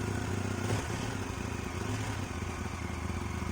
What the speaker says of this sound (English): now when I start the engine, you can check the voltage.